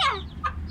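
Chickens and chicks cluck and peep close by, a short burst of bird calls with a second brief chirp.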